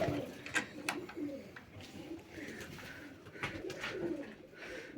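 Viennese pigeons cooing in a loft, low repeated coos from several birds at close range with some wing and body rustling, steady through the moment with no talk.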